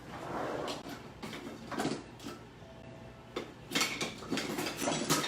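Utensils clatter and scrape as hands rummage through a kitchen drawer looking for a spatula, with several separate metallic clinks and rattles at close range and no talk.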